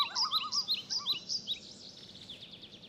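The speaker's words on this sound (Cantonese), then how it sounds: "嗰啲係爺爺同你一齊聽過嘅雀仔叫聲。" Several birds chirp and call in quick repeated bright bursts, moderately close, gradually thinning out and fading over the last second with no voices.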